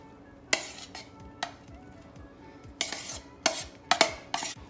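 Salmon and crab meat being mixed for a sushi bake, with several distinct scraping and clacking strokes of a utensil against a bowl spaced irregularly over a quiet background.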